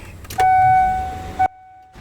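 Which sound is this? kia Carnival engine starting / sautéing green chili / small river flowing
kia Carnival engine starting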